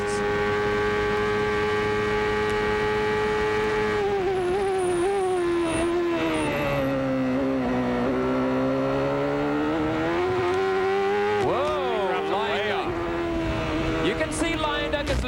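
A 1993 IndyCar on the Road America circuit holds a loud high engine note, eases off briefly, then surges back to full revs, with a commentator talking over the roar.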